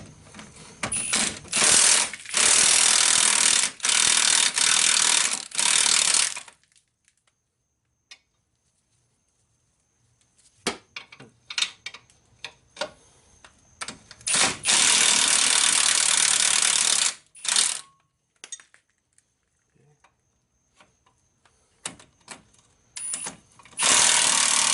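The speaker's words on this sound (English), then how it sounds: "Now we're going to take out the 2 bolts that hold the knuckle to the shock." Loud ratcheting and whirring of a power tool or impact wrench on the bolts that hold a car's steering knuckle to the shock during a front CV axle replacement, several long bursts separated by quiet gaps and short clicks.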